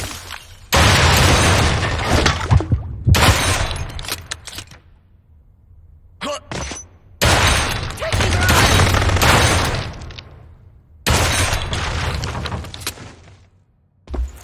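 Gunfire in the shooter game Blue Estate, loud bursts coming in several long, dense stretches with short gaps between them, over a heavy low rumble, with voices talking in between.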